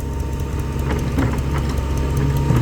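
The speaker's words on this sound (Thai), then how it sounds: "ป้าเดี๋ยวรถไถดันเอง" A farm tractor engine idling at a work site, a low, steady rumble with a faint irregular chugging on top, close and fairly loud, with no talking.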